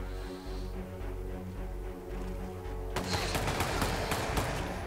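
Rapid gunfire in the Hitman video game, a dense crackling burst of shots that erupts midway over a low rumbling background and continues to the end, fairly close and loud, with no talk.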